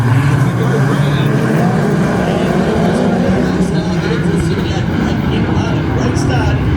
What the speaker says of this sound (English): take the midget sprint car action as we look to go green, picking up the throttle